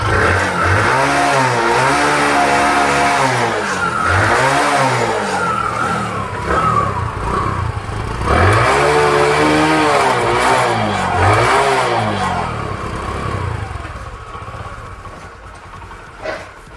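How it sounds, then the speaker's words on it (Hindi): A Bajaj Discover 125 motorcycle engine, freshly restored, revs up and down in repeated surges, loud and close, with rising and falling pitch before settling toward a lower idle at the end. "अब थोड़ा आरपीएम बढ़ाऊंगा मैं।"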